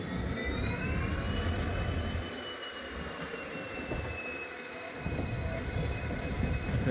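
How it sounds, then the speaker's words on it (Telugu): A diesel locomotive runs on the parallel track beside a moving passenger train: a steady, close rumble of wheels and engine with a high, sliding whine above it, rising and falling slightly in level. "మా ట్రైన్తో అయితే ఈ డీజిల్ లోకో ప్యారలల్గా రన్ అవుతుంది"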